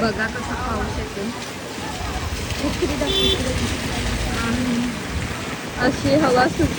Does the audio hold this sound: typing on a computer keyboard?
no